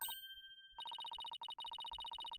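A phone in the Ace Attorney Spirit of Justice video game rings in a steady electronic trill, with repeated bright pulses running continuously after a short pause, briefly interrupted once.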